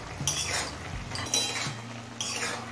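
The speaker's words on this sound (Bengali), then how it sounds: "এবার গ্যাসের ফ্লেমটা একটু হাইতে করে দিয়ে নেড়ে নেব।" A utensil scrapes and clinks against a pan while radish greens are stirred over a high gas flame, with three bursts of stirring under a low steady hum.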